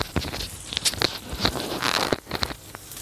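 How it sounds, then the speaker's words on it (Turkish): Food frying in a dry pan without oil: soft, irregular crackling and popping ticks close by at a quiet level, with no voices. "Yağsız tavada böyle güzelce kızartıyoruz."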